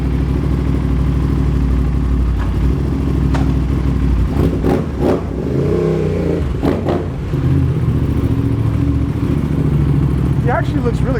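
A 2026 Aprilia RS 660 Factory sport motorcycle revs and pulls away, its engine note rising and falling at moderate distance, with people talking nearby throughout.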